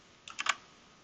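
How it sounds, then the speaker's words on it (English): A few quick keystrokes on a computer keyboard while entering terminal commands, a short cluster of crisp clicks close to the mic and otherwise quiet. "So typically you enter a folder by typing cd and the full path"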